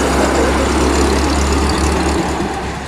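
A 1920 Harley Davidson motorbike arriving during a veteran and vintage run, its engine a loud, steady low rumble close by that fades slightly toward the end.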